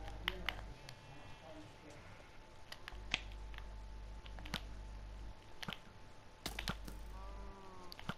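Arrows fired in a Minecraft match loose off as sharp, short clicks and thwacks, scattered irregularly over steady low game hum, with faint chirpy game effects between shots.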